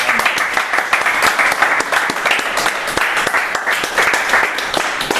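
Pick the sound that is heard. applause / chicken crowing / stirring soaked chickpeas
applause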